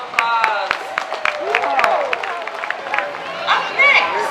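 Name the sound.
crowd applauding fire and police departments at a parade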